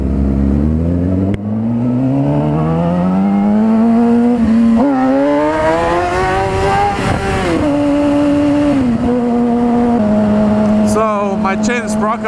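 A motorcycle with a loose chain and sprocket revs loudly, its engine pitch climbing steadily then holding and dipping, close by with voices talking over it.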